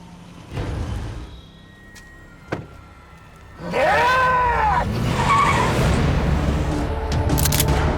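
Cars tear through a chase scene in a big-budget Korean action drama, a brief thump giving way to a loud, sustained squeal of skidding tires and roaring engines that fill the second half.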